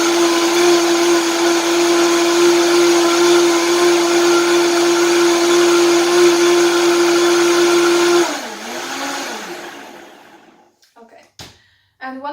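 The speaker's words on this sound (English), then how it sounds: "one of the reasons I got Vitamix blender is that it works really well for greens" A Vitamix blender whirs steadily at high speed blending a green smoothie, a loud, even motor whine that runs for about eight seconds, then spins down and stops, leaving a few faint knocks.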